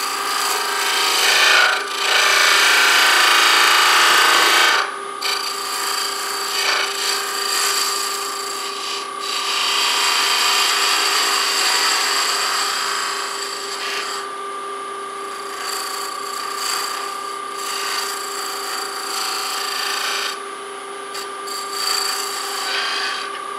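A mini wooden baseball bat spins on a wood lathe while a tool cuts and scrapes it, producing a continuous raspy whir with bursts of louder gritty shaving over a steady motor hum, no speech.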